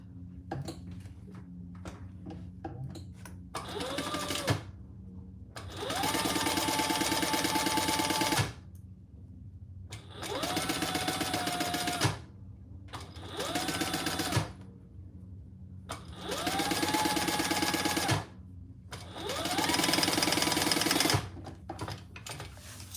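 A sewing machine basting through waterproof canvas runs in several loud, close bursts of rapid stitching, each a few seconds long, separated by short pauses and faint handling noise.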